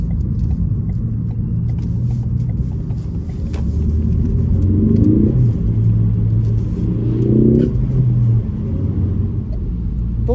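A 2015 Ford Focus ST 250 engine rumbles steadily and then revs up in two rising surges, loud and close, with little else over the constant drone.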